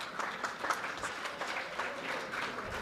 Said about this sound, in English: look to the person beside you and just give them a round of applause